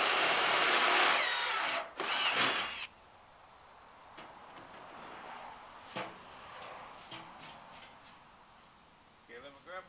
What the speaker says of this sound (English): I'm actually going to use a center drill with a counterslink on it